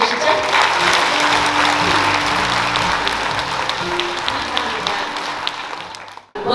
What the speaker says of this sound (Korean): 서로에게 뜨거운 박수 한번 보내주시죠